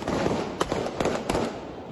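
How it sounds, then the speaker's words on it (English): Rapid gunfire crackles through a street attack on Haiti's prime minister, a dense, continuous barrage of pops and bursts over a loud roar, with no voices audible. "with gunfire still erupting"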